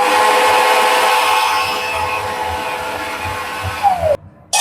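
Mixer grinder whirring loudly and steadily as it grinds coconut, cumin, pepper and fennel, the motor winding down with a falling whine near the end before a brief quiet and a restart.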